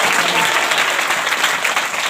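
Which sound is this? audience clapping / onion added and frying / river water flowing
audience clapping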